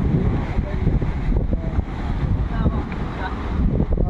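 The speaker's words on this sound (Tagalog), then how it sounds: "Ang lalakas ng alon, no?" Strong ocean waves roll and crash in a continuous loud roar mixed with heavy wind buffeting the microphone, close and steady throughout.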